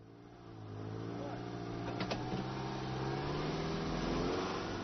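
A car engine drones and revs steadily while towing another car stuck in mud, a continuous mid-level rumble with a brief clatter partway through, heard alone without voices.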